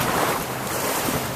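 A 1957 Lyman 23-foot lapstrake runabout pounds through rough, choppy water, with steady broadband wash of hull spray, waves and wind noise blowing across the microphone throughout.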